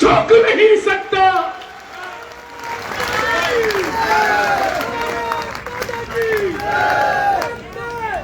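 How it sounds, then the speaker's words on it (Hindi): Loud, sustained audience applause and cheering from a large crowd at a Mahashivratri kavi sammelan (Hindi poetry gathering) at Harni Mahadev, Bhilwara, swelling in waves with shouts mixed in. "बस इन्हीं तालियों को और बड़ा कर दीजिए"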